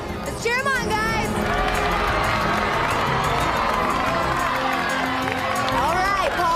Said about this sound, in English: Let's cheer him on, guys.